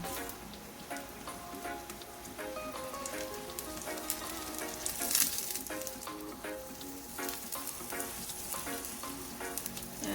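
Tomatoes and other vegetables sizzle and fry on a stovetop over moderate heat for a Jamaican smoked herring dish, a steady crackling hiss with occasional stirring clinks, close and alone without talk.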